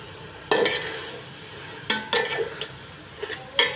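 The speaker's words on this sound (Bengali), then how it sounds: "আমার চালগুলো ভেজে নেওয়া হয়ে গেছে সুন্দর করে" Washed rice and lentils fry in spices for khichuri, with a soft background sizzle punctuated by several sharp stirring scrapes of a spoon against the pan, close and distinct.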